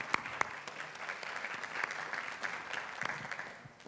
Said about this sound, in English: let's give a round of applause to our 2 state championship teams that are here